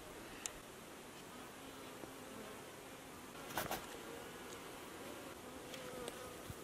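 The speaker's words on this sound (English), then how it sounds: "I find if we go really slow, not only are the bees less likely to come out and sting me" Honey bees buzz faintly and steadily around a hive being installed in Alaska, a soft continuous drone with a few brief louder passes close by, no talk.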